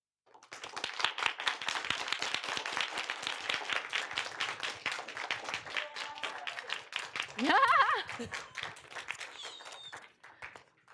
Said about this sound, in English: Let's give her one more round of applause, please